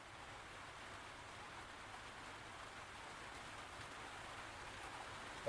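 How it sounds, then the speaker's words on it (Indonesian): Steady rain falling outside, a constant close hiss of drops on surfaces with no speech, even and moderately faint throughout. "mohon maaf ya jika agak berisik, soalnya ini lagi hujan"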